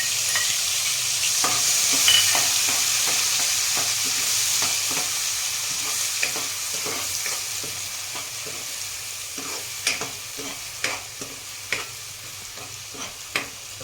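Onion paste sizzling in a hot pan with a pinch of asafoetida for chole gravy, a steady frying hiss close up with repeated scraping and stirring clicks, no talking.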